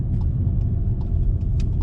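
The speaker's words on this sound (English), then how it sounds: "So yeah, I'm going to drive fast now," A 2020 VW Polo is driven fast on an empty road. Its low, continuous engine and road rumble is close and loud, with small tyre and wind rustles on top.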